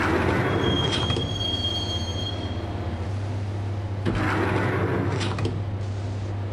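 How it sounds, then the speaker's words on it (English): Subway train riding through the tunnels in the video game Max Payne, a steady loud rumble of rails and car with recurring metallic wheel squeals, heard alone. "the train doors had already shut behind me, and I was in for the ride"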